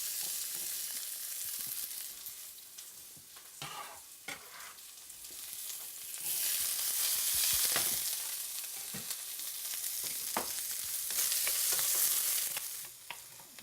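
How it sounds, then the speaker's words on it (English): Onions fry in coconut oil in a hot pan, a continuous close hiss that swells and eases with scraping stir strokes and crackles. "So we've got our onions roasting."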